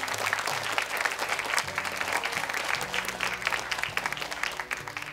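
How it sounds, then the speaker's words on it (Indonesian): Studio audience applause for the jury on an Indonesian Quran memorization competition show, a dense continuous clapping wash at even volume with a low musical drone running underneath. "Boleh tepuk tangan untuk Dewan Juri kita."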